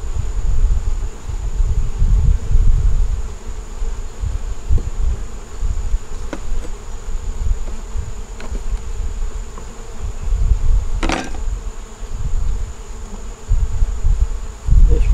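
Honey bees hum and buzz around an open hive that is getting honey bound. The dense, steady drone is close and loud throughout, with occasional soft rustles.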